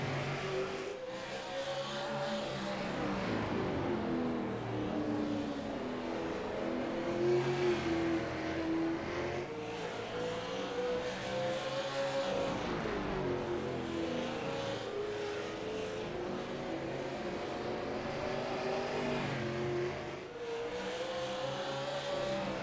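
Super Late Model race cars at Oswego roar steadily around the track, engines rising and falling in pitch as they accelerate through the laps, loud and continuous throughout.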